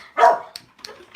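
A dog outside near a window lets out one sharp bark, followed by a couple of faint, short yips, heard alone without talking.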